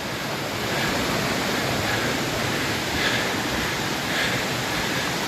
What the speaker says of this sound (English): It's the second waterfall,